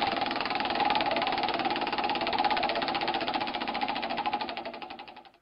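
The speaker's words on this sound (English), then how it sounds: "let's spin the wheel" A giveaway prize wheel spins with a rapid, even ticking that keeps a steady rhythm, then slows and fades as the wheel comes to rest.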